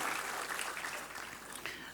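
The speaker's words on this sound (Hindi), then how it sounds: "मैं भी तालियां बजाता हूँ" Faint, steady applause from a hall audience at a ceremony honouring gallant warriors, a soft continuous wash of many hands clapping heard at a distance.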